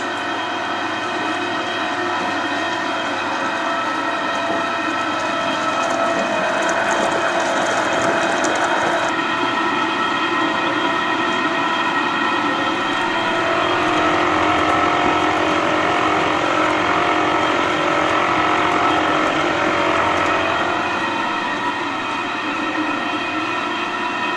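A loud, steady pump of an SS Brewtech brewing vessel's CIP spray ball cleaning system drones continuously with a rushing, spraying wash over it, unbroken and close for the whole stretch.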